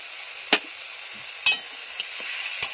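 Chopped tomato and ginger paste frying in hot oil in a Bengali kitchen, a soft continuous sizzle with a few sharp scraping stirs of a spatula.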